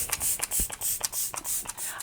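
Makeup setting spray pumped from a bottle in a quick series of about eight short, close hissing bursts.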